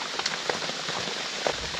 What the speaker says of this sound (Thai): ถ้าฝนตกอย่างนี้ออกไปไหนไม่ได้นะครับ